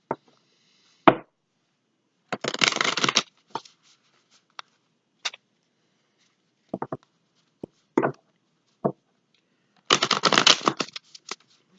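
Tarot cards shuffle in several crisp riffling bursts at close range, separated by silences and single sharp taps and snaps as the deck is handled.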